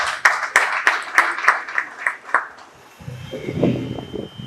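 A few separate claps ring out, rhythmic and spaced, from an audience at an informal cross-border trade event, before dying away into low murmuring and background talk.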